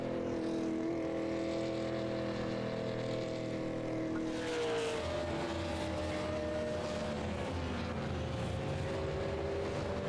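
Super late model race cars droning along pit road at the Milwaukee Mile in a racing sim, steady engine hum that shifts as another car passes midway.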